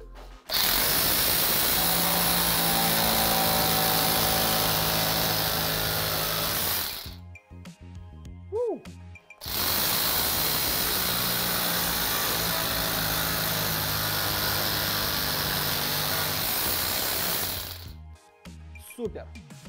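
A homemade oscillating tool cutting a thick bar after thin plywood, a loud continuous buzzing drone in two long runs of about seven seconds each, separated by a short pause.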